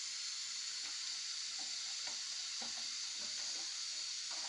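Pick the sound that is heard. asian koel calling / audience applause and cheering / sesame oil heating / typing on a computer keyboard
sesame oil heating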